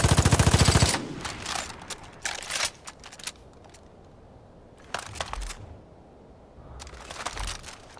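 A VHS rifle, a Croatian copy of the FAMAS G2, fires in a video game: a rapid full-auto burst at the start, followed by scattered sharp mechanical clacks and handling sounds, loud and close.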